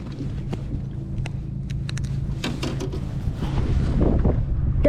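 Strong wind buffets the microphone during crappie fishing from a boat on open water, a steady low rumble with gusts that grow louder toward the end, mixed with scattered clicks and knocks.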